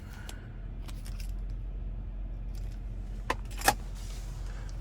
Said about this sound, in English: And there's your key fob with remote start.